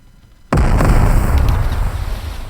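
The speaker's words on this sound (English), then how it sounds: "And now you can fire your cannons." A ship cannon fires in the Minecraft Small Ships mod: one sudden, loud booming blast after a quiet moment, followed by a long rumbling decay.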